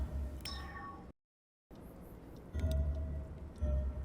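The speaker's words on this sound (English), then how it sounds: "there's the cat" A cat meows in the video game D4, a couple of short meows over a low rumbling game background, broken by a brief silent gap.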